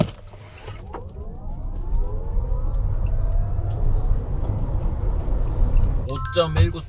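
A Hyundai Ioniq 9 dual-motor, 415-horsepower all-wheel-drive electric SUV accelerates hard from 0 to 100 km/h, its electric motor whine rising steadily in pitch over low road rumble inside the cabin, with a voice breaking in at the end.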